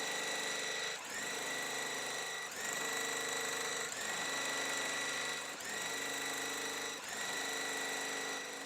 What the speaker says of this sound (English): So what we're gonna do now is sew this top right here and sew this bottom right here. I'm gonna chain piece all of it